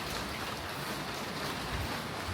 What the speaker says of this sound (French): Là il pleut de zinzin.